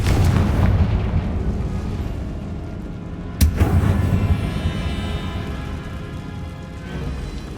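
A Confringo spell explodes in the video game Hogwarts Legacy, a deep rumbling boom that opens loud, fades, then gives a sharp crack near the middle and a long rolling low tail.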